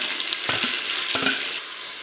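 Tomatoes hit hot oil and fry for a banana flower biryani, a bright steady sizzle broken by two short clattering stirs.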